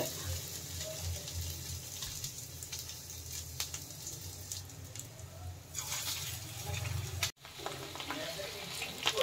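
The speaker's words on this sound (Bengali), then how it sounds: "দেখো তেলটা গরম হয়ে গেছে, আমার মাখাও হয়ে গেছে। এবার আমি একটু একটু করে ছাড়বো।" Alu chicken pakora batter dropped into hot oil, a soft continuous sizzle and bubbling, fairly quiet, with a brief gap of near silence before the frying resumes.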